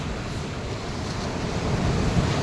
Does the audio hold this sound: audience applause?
no